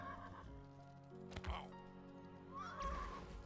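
A horse in Mortal Online 2 gives a clear whinny, with a second neigh near the end, set over a faint in-game background hum.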